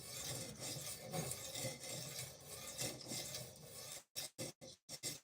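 A knife is sharpened on new sharpening stones with continuous rasping rubs up close, then breaks into short separate strokes with brief silences between them.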